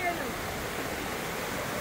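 Two streams meet and flow away together, giving a brief, steady rushing wash of water, close and even, with no voices.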